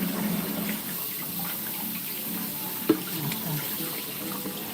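Water runs steadily from a kitchen tap while an appliance is rinsed clean of soap residue, a continuous splashing flow with one brief knock partway through and no talking.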